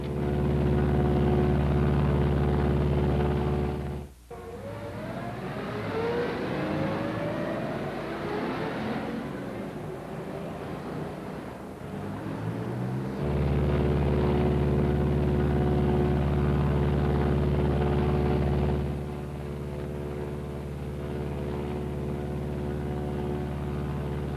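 A Martin B-26 bomber at 4,000 feet running on a single engine, a loud sustained propeller-engine drone with a dip and shifting whine midway, then the steady roar returns.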